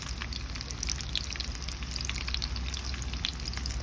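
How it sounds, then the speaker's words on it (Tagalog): Deep-frying vegetable spring rolls (lumpia): a dense, steady crackle of bubbling oil with sharp pops scattered throughout, close and continuous. "Magpiprito na tayo ng lumpia."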